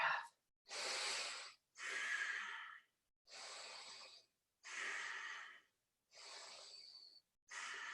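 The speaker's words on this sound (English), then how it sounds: "Inhale for half and exhale for half." Deep, audible breaths during a Pilates mat workout, alternating long inhales and exhales in a steady rhythm of about seven airy bursts separated by short silences, close and alone without talk.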